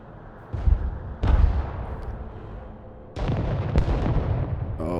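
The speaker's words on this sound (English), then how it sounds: "looks like they're hitting me with artillery" Heavy artillery fire in the military strategy game Broken Arrow: several loud booming blasts, two sharp impacts early on, then a sustained rumbling barrage with crackling bursts near the end, no talking.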